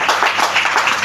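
A church congregation applauds for the glory of Jesus, a steady wash of many hands clapping at close range with no talk over it.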